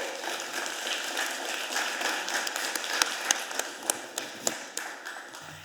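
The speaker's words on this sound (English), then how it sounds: "Let's give him another round of applause" Applause for a 16-year-old speaker at a committee budget hearing: a steady roomful of clapping that thins into a few louder, separate claps near the end.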